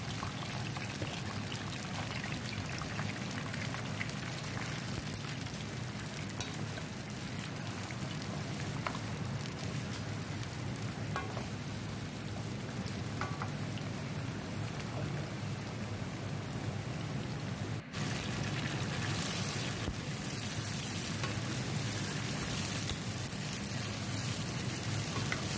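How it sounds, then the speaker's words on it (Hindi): Eggplant frying in half a cup of hot oil over a medium flame, a steady, dense crackling sizzle that holds loud and continuous throughout with no talking. "हाफ़ कप ऑयल लिया है और इस पे हम बैंगन फ्राई करेंगे।"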